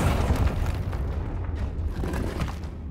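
A Confringo fire spell bursts in the Hogwarts Legacy video game, giving a loud, sustained rumbling boom with crackling blasts that keeps going for about three seconds without any voice.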